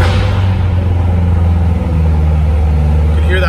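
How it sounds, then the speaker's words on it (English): A 2017 Corvette Z06 with a 650-horsepower LT4 V8 rumbling loudly and close after startup, its deep exhaust holding a steady, throbbing idle. "We'll fire it up."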